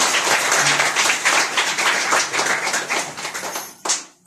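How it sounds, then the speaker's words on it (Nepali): Audience applause at a Mother's Day (Mata Tirtha Aunsi) event: dense, steady clapping from a crowd that carries on for several seconds, then thins and swells briefly again at the end. "पनि उहाँलाई जोरदार तालीले स्वागत गर्नुहोला।"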